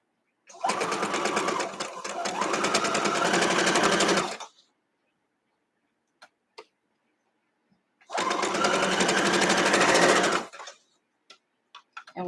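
A sewing machine stitches fabric in two fast, whirring bursts of about four and two seconds, with near silence and a few faint clicks between them.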